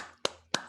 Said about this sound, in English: I'll give you a one-person applause.